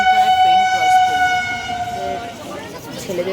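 Trains passing a railway crossing give a loud sustained horn for about two seconds, followed by rolling rail rumble, with people talking nearby.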